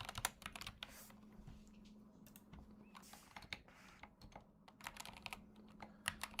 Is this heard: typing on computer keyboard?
yes